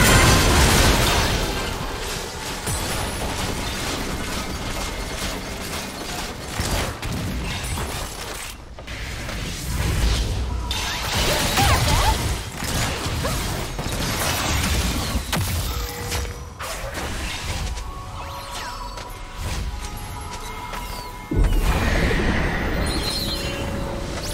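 Crunching, creaking collapse of a tower structure being destroyed in League of Legends, with mechanical rumbles and booms that stay loud and continuous.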